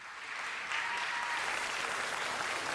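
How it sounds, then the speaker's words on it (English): A city council meeting audience gives a round of applause, a dense, steady wash of clapping that swells slightly after the first moment and holds evenly throughout. "could we please give a round of applause"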